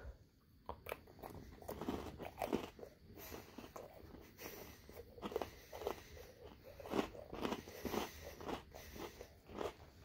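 Hazelnut-flavored Oreo cookies are bitten and chewed up close, with crisp repeated crunches in an uneven rhythm over about ten seconds, fairly quiet and with no talking.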